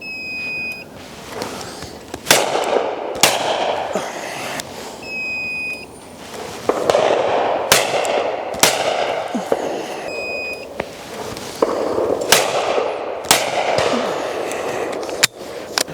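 Shotguns fire at clay targets from a driven shooting stand, about a dozen sharp loud reports spaced a second or so apart, with electronic beeps from the trap release between some shots.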